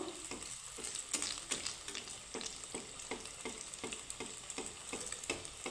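Poha snacks fry in a pan of oil, three at a time, giving a steady bubbling sizzle punctuated by regular soft ticking pops and light spatula touches, close and fairly quiet, no talking.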